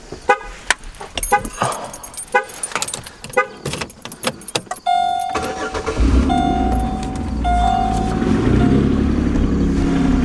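A car that only starts when the engine is cold turns over and catches, settling into a steady idle after a stretch of keys jangling and clattering handling sounds.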